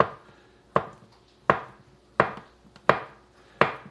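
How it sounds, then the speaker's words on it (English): A knife slicing through ripe avocados for guacamole, landing on a board in five sharp, evenly spaced cuts, close and clear with quiet gaps between strokes. "rather than mashing them all up, I just slice them"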